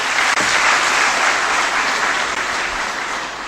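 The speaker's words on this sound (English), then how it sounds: "give yourselves a big round of applause" Sustained, loud applause from a large audience at a CFO conference, a dense wash of clapping that holds steady and fades slightly at the end.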